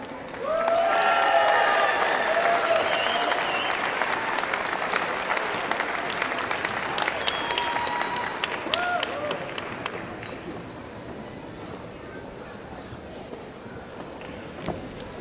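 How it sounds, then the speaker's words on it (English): A graduation ceremony audience applauds and cheers, loud dense clapping with scattered whoops at first that gradually thins and fades toward the end. "I just want to thank all the folks who cheered"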